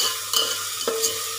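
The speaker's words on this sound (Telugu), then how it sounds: "ఇలా కలుపుకోవాలి, కస్తూరి మేతి అన్ని వేసినాం కదా, ఇలా కలుపుకోవాలి ఫ్రెండ్స్." Kasuri methi being stirred into frying masala paste for an egg curry, a constant close sizzle with a few distinct spoon scrapes against the pan.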